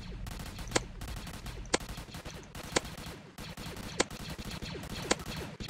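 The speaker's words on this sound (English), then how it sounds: "it's like shooting a sniper with a silencer on" Beam Launcher weapon firing in the Roblox game Zombie Attack, with five sharp crisp shots at roughly one-second intervals over a dense, continuous loud background of game noise, no talk.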